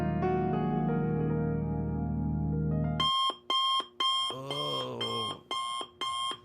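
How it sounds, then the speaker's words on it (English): An alarm clock goes off in a regular pulsing pattern of about six loud electronic beeps, each cut off by a short gap, after a sustained musical tone. "His alarm startled him awake, each beep taking him further away from his fading dream"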